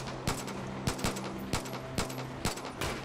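Scattered gunshots in the open-world shooter Far Cry 5, several sharp reports fired at irregular intervals over a steady droning hum, moderately loud and fairly close.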